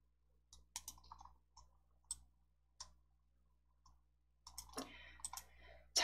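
Mouse clicks in a PowerPoint exam-practice session: a scatter of single sharp, faint clicks spaced a second or so apart, then a quick cluster near the end over a quiet room hum.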